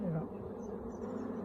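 Honey bees buzz at a hive in a close, steady droning hum, the pitch wavering briefly at the start.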